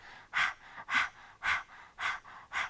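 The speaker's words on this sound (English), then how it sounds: "as you exert or exhale the breath, naturally your abdomen goes in to allow your diaphragm to push the breath out" Breath of Fire yoga breathing: five forceful, evenly spaced exhales pushed sharply out through the nose about every half second, each a short breathy burst, close and alone with no talking.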